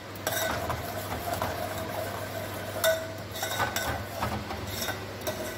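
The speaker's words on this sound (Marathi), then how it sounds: "आपण जरा अजून हे 2 मिनटं ढवळून घेऊया म्हणजे ते चांगलं सगळे ड्रायफ्रूट मिक्स होतील याच्यामध्ये." A spoon stirs a powder of cardamom, cashew, pistachio, almond and saffron into a firani mixture in a pan. Soft scraping strokes come with intermittent light metallic clinks, close and fairly faint, with no talking.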